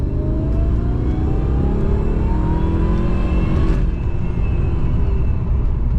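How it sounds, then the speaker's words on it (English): A 23-year-old car accelerates hard, its engine revving with a rising whine over a loud, steady rumble heard from close inside, with a brief dip as it shifts near the middle. "I just love the longer it gets into the revs, the more power it seems to give"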